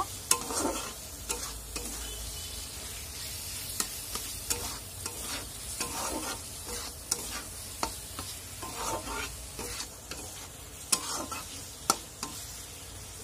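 A spoon stirring and mixing a chicken filling with tomato in a pan for chicken kachori, quiet scraping strokes at an irregular pace over a faint sizzle.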